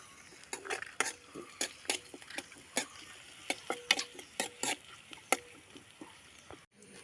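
Onion, green chilli and curry leaves fry quietly in a pan while a spoon taps and scrapes in uneven bursts over a faint sizzle.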